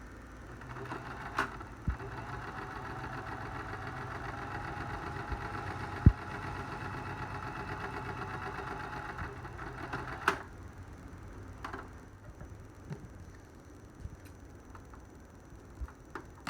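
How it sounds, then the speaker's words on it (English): A sewing machine runs a straight-stitch seam along the fabric edge of a surgical mask, a steady, close mechanical whir with rapid ticking that continues for several seconds, then eases into lighter clicks and handling sounds, with no talking. "you'll do a straight stitch, so you have an approximate 1/4 inch seam on what is said is the short edge"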